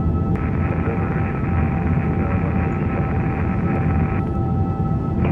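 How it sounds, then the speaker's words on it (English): Hydraulic pumps run in an Airbus A350 flight simulator, giving a steady, loud mechanical whine and hum with a constant tone under broadband rumble, unbroken throughout. "Which is obviously the hydraulic pumps running."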